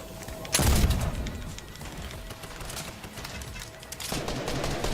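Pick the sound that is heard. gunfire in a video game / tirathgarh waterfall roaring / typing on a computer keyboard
gunfire in a video game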